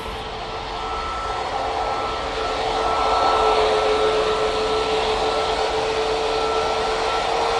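A plane departing Manchester Airport, a steady jet engine roar with a sustained whine, growing slightly louder and holding strong as it climbs away, no talk.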